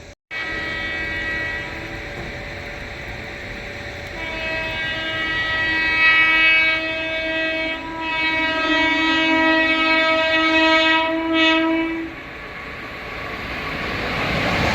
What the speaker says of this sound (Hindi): तो सामने से अब आ रही है श्रीधाम सुपरफास्ट एक्सप्रेस।